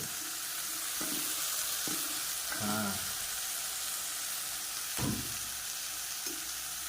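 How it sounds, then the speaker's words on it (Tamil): Dried sardines (sala karuvadu) fry in a pan with a steady background sizzle, broken by a few soft stirring scrapes and clatters, close and moderately loud with no talking. "இப்போ அடுத்தபடியாக நம்ம சால கருவாடை உள்ளே போடுறோம்"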